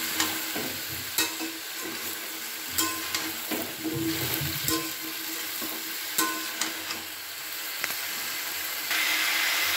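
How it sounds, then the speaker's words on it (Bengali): Mixed vegetables for a Bengali pach mishali curry sizzle steadily in a pan while a spoon stirs and scrapes them, with irregular clinks over a constant frying hiss; no one speaks. "এবার আস্তে আস্তে সমস্ত সবজিগুলোকে আমি ঢেলে দিচ্ছি। দিয়ে ভালো করে এবার মিশিয়ে নিচ্ছি।"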